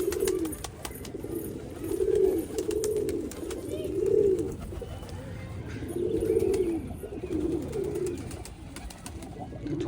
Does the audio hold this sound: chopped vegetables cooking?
no